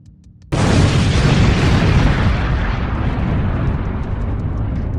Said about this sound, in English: a sudden earth-shattering explosion tore through the Siberian silence